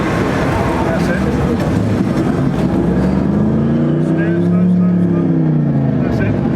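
A racing simulator's car engine drones loud and steady, then revs up in a rising then falling sweep as the accelerator is pressed all the way down, with the sound unbroken across the whole stretch.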